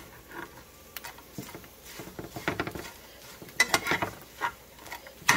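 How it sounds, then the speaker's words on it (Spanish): Beef browning in a hot pan while making Guerrero-style aporreado, with eggs about to go in, gives a soft crackling sizzle with irregular spattering pops and a few clinks of a utensil against the pan, close up, with no talk. "ya se empieza a dorar la carne"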